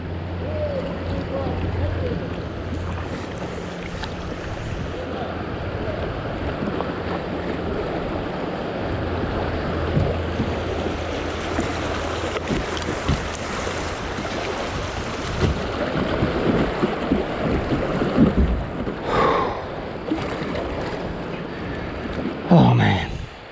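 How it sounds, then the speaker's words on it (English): Boat running massive white water rapids on a Tennessee smallmouth river, with continuous roaring, rushing water and splashing throughout, some thumps and surges near the end, and a voice speaking faintly under the noise. "Some massive rapids here."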